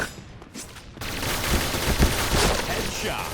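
MP9 submachine gun firing in a shooting video game, bursts of rapid shots crackling loudly after a quieter opening second, with faint background game sounds.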